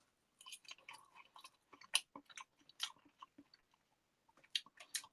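Close, crunchy chewing of a freshly cooked wholemeal spinach and cheddar pancake with onion, a string of soft wet bites and mastication bursts spread unevenly over several seconds with brief pauses.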